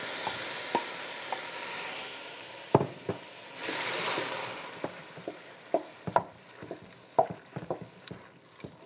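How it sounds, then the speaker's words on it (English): Chicken sizzles in a pan with garlic and onions while a utensil stirs it, giving soft frying hiss broken by scattered scrapes and taps, fairly close and clear. "So we're just stirring this chicken up right now with the garlic and the onions for about 5 minutes."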